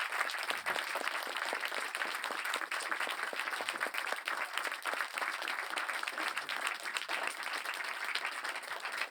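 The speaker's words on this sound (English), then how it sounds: "a huge round of applause for" An audience at a documentary premiere Q&A gives a big round of applause, dense and sustained clapping from a full room that stays loud and even for several seconds with no talk.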